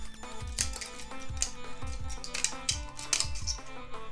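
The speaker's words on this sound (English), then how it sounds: "I've got my scissors and let's go ahead and start cutting away here" Scissors snip stringy hairs off a 3D-printed PLA unicorn figure, producing a run of sharp, closely spaced clicks and snips in an irregular rhythm at close range.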